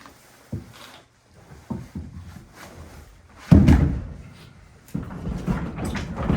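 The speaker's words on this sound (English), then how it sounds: "Just trying to close this door." An old door in a 1797 New England inn is pushed shut with a few scattered knocks and thumps, then a heavier thud and scraping, close by in a quiet room.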